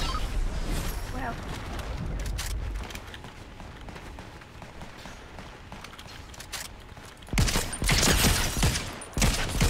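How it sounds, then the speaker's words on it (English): Bursts of video-game gunfire crackle in clustered volleys, sparse early and then loud, dense rapid shots near the end, with a player talking over parts of it. "See some shooting up ahead."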